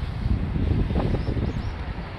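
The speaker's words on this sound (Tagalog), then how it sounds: "Medyo mahangin din ngayon." Wind blows outdoors on a breezy spring day among cherry blossoms, a steady low rumbling rush buffeting the microphone with no voices.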